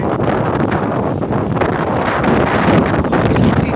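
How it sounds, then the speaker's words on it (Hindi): Strong outdoor wind during a dust storm roars and buffets the microphone in a loud, continuous rush with no pauses and no talking. "हवा चल चुकी है यहाँ पर अंधारी जैसे कहा जाता है।"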